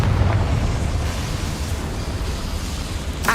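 A Confringo explosive spell is cast in Hogwarts Legacy, producing a loud, sustained roaring rumble of blast noise that fades slightly before a brief sharp crackle at the end.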